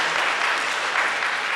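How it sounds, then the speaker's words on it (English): An audience claps steadily in dense, continuous applause at a civic event for a Comcast center in Newark, with no breaks. "could we have another round of applause"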